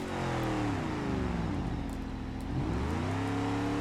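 A damaged, smoking car engine in BeamNG.drive revs steadily, dips in pitch, then climbs again, a loud sustained drone with no voices over it.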